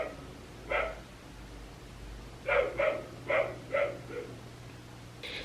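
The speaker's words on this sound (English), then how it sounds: "Do y'all hear this dog?" A dog barks six times at a distance: one bark alone, then a faint, uneven run of five barks over a low steady hum.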